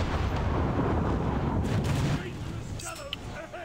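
Naval guns of the battleship Yamato fire in the War Thunder Mobile game, a loud, deep, rumbling blast that roars for about two seconds and then fades into a quieter, lingering rumble.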